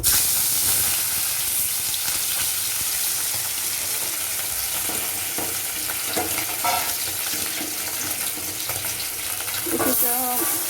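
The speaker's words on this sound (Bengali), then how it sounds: "এবারে হলুদ মাখানো মাছগুলোকে আমি একটু ভালো করে ভেজে নেব" Turmeric-coated fish frying in hot oil in a kadai, a loud dense hiss of sizzling with bursts of bubbling and spitting oil, steady from start to finish.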